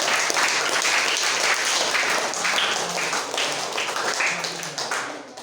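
Students in a school classroom clap together in a sustained, dense burst of applause close by, tapering slightly toward the end, with no talking over it.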